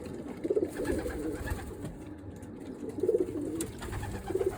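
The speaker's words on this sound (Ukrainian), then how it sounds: "Значить, дивіться, тут ще є одне голубенятко." A young pigeon cooing in a loft, soft low burbling coos coming in three short bursts a couple of seconds apart, close by over a quiet background.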